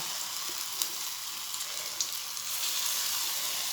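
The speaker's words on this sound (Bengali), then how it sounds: "তেলটা গরম হয়ে আসছে এবারে পক পকোড়াগুলি দিয়ে দেব এই যে চিংড়ি পকোড়া" Shrimp pakoras sizzle steadily in hot oil, a close, bright frying hiss with a few small pops and crackles throughout.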